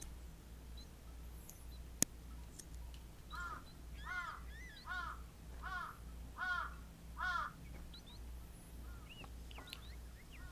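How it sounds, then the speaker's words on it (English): Several crows caw in a run of repeated harsh calls, at moderate distance, over a steady low background hum with a sharp click near the start. "Lots of crows."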